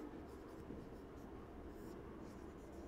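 Pen or chalk writing by hand during a Class 3 maths lesson, a faint continuous scratching and scraping, quiet and close.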